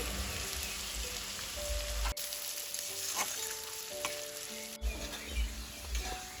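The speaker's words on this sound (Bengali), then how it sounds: "তেলের মধ্যে দিয়ে দিচ্ছি এক বাটি পেঁয়াজ কুচি দিয়ে দিলাম কাঁচা লঙ্কা কুচি" Chopped onion and green chili sizzling in hot oil while cooking ghugni, a steady crackling fry with occasional stirring clicks and scrapes, close and continuous with no talk.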